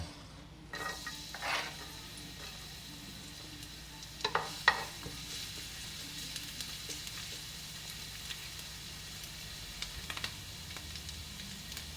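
Garlic dropped into hot oil in a frying pan, giving a steady low sizzle with a few brief clinks and stirring scrapes of a utensil against the pan, moderately near and without talk.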